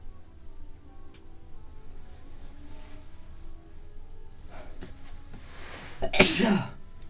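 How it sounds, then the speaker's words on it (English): A single sharp sneeze bursts out near the end, after a quiet stretch with faint background sound. "when I sneeze, my abs hurt"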